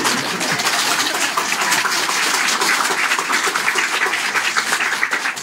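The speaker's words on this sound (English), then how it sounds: "You hear them clapping?" Dense, steady clapping from a crowd continues throughout without a break, fairly loud.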